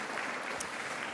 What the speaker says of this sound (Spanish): Un fuerte aplauso a todos los que apoyaron